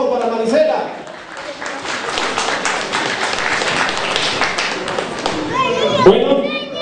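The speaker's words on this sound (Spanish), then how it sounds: "Fuerte los aplausos, por favor, para Maricela." A crowd at a local festive pageant claps steadily, the applause fairly loud and sustained, with a voice talking briefly at the start and again near the end.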